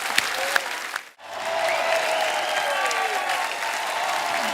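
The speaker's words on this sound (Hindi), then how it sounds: "दृश्यम की एक बार जोरदार तालियां हो जाए।" Studio audience at The Kapil Sharma Show breaks into loud, dense applause after a brief pause, a sustained wash of clapping and crowd noise that holds steady to the end.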